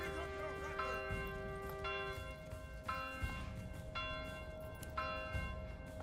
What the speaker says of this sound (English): I hear the alarm bell.